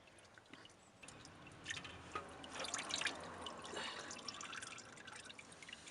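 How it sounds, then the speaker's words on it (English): Used engine oil running and dripping down from a just-removed oil filter during a car oil change, a steady soft liquid trickle and drip with faint splashes, moderately close and without speech. "as you can see there's oil running down"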